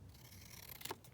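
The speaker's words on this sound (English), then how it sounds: "I'm just going to cut those out" Scissors cut out small pieces of paper for a papercraft project, a faint quiet snip or two late on with light rustling around them.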